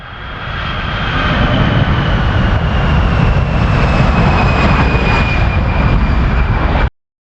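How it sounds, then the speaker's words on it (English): A jet aircraft engine roars loud and close, a dense, continuous blast with a high whine on top that rises in over the first second and then cuts off abruptly. "J for jet."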